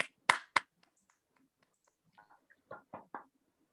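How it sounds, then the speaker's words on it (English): A few scattered claps in an online meeting, some sharp and close and others thin and faint, uneven and sparse rather than a full round of applause. "I would like all of you to give a big round of applause to Toastmaster Tarun and Toastmaster Srijit"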